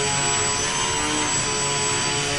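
A fixed-wing UAV's electric propeller motor holds a prop-hang hover, giving a loud, steady, close whine and buzz throughout with no pauses or talking.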